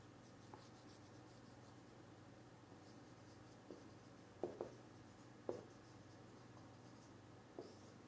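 Faint scratching of handwriting during an organic chemistry lesson, quiet, sparse pen strokes with a few sharper taps in a still room.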